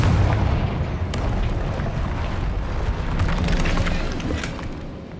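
A Confringo spell explosion in Hogwarts Legacy, heard as a loud, dense rumbling blast that roars continuously for several seconds before easing slightly at the end.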